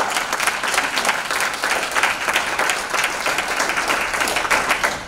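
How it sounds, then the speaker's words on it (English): An indoor event crowd applauds steadily, a dense, fairly loud wash of many hands clapping that carries on through the whole stretch without talk. "Let's give them a round of applause."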